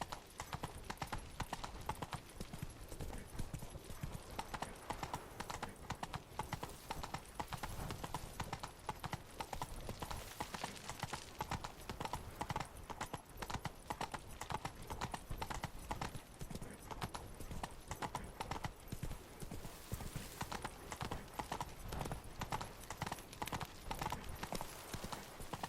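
Roach, a horse in The Witcher 3, gallops with a fast, continuous rhythmic clatter of hooves that carries on steadily for about twenty-five seconds, with faint voices now and then.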